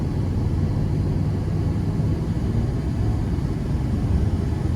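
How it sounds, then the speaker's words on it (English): A 1998 Chevrolet Silverado 1500 extended cab on the road, with a steady, loud low rumble of engine and road noise running evenly throughout, no voices. "starting the test drive in the Silverado here, with the 1500 extended cab"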